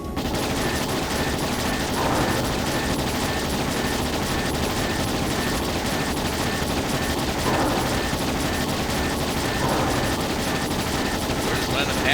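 Ships in Trails in the Sky SC open fire in a sustained naval barrage, dense rapid volleys and mechanical clatter filling the scene loudly without pause.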